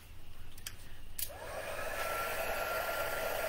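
A handheld heat tool used for crafting switches on and blows with a steady, soft whooshing hiss, close by and continuing without talk.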